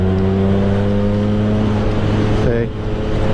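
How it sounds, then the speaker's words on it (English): Vespa PX MK1 scooter fitted with a VMC Super G 2.0 kit, idling steadily in third gear with a strong droning engine note that briefly rises in pitch near the end, close and loud. "So I'm in third gear right now, and she could rev right out if I wanted to."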